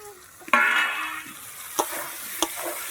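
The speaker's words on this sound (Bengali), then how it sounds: "বেগুনটার সঙ্গে তেলটা ভালো করে ভেজে নেব।" Eggplant frying in hot oil in a kitchen pan gives a sharp burst of sizzle as the eggplant is added, easing into a steady crackle punctuated by two crisp knocks of a spatula, with no voices.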